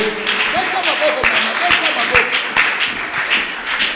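A church congregation claps and cheers during a prayer gathering, a dense continuous wash of applause with a few sharp claps standing out, while voices shout and talk loudly over it.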